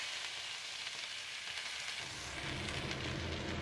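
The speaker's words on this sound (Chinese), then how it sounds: "油热以后，先加入葱姜末进去炒香，" Chopped scallion and ginger stir-fried in hot oil in a wok, a steady close hissing sizzle that grows slightly louder partway through, with no voices.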